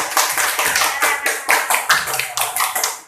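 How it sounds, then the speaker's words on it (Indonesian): A class of primary school pupils claps hands together during a lesson, producing a dense run of sharp, fairly loud claps that continues steadily throughout with no talking. "Tepuk tangan buat Nyai."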